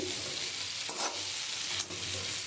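Fried teasel gourd sautéed with fried spices in oil, a steady close sizzle with soft stirring scrapes around the first and second marks, no voices.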